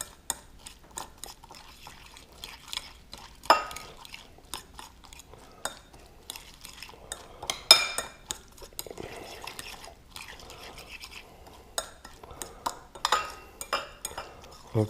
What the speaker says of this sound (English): I'm going to add the onion. I'm going to get that blended in with the egg